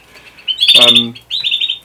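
High, bright chirps from hens ring out close by, with a short noisy squawk in the middle before the steady chirping resumes.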